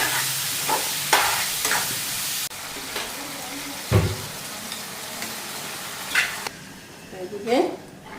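Fish frying in a pan gives a steady close sizzle, broken by a few stirring scrapes and clinks. A voice is heard now and then, partly over the frying.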